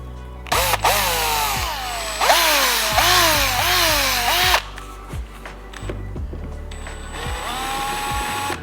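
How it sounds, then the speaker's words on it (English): A power drill whines in repeated rising bursts while drilling out rivets on the front trim of a Mazda RX8 R3, loud and close, with clunks and short pauses between runs. "we've got to drill out some rivets and do some unbolting"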